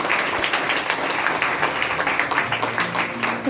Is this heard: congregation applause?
yes